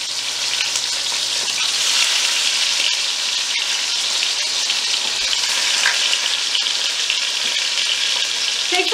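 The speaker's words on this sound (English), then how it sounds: "That's braising. And see, it doesn't take much time at all if your pan is hot." Short ribs searing in a very hot pan for red wine braised short ribs give a loud, steady, dense sizzle with crackling spatter that runs without a break throughout, with no voices.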